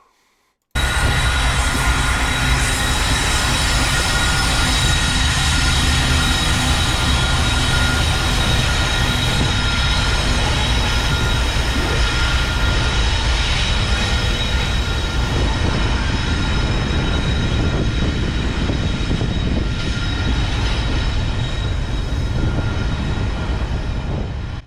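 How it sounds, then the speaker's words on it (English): A Norfolk Southern intermodal freight train passes close by on the CSX Chattanooga Subdivision, heading toward Chattanooga. It makes a loud, continuous rolling roar for more than twenty seconds, with steel wheel squeal and rail noise, and no voices. "the first train we see here is a Norfolk Southern Intermodal train that's headed towards Chattanooga"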